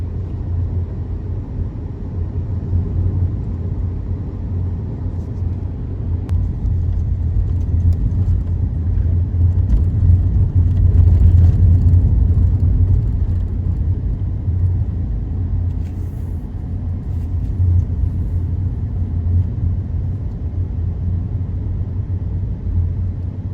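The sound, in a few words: car driving on road at 50 km/h, engine rumble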